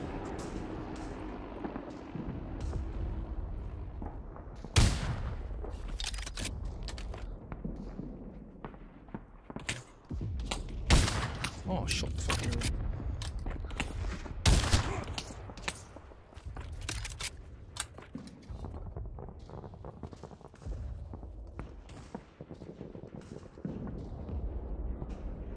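Gunfire in the WWI-era shooter Pavlov VR, with repeated sharp shots and heavier blasts scattered across a busy battle soundscape, some close and loud, others more distant, with footsteps and occasional speech in between.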